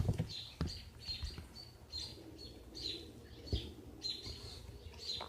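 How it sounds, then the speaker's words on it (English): Small birds chirp outside a bedroom window, repeated short high tweets in an irregular, overlapping pattern, moderately close but soft, with occasional faint thumps and no talking. "These birds, I apologize if these birds outside my bedroom window are like really annoying people"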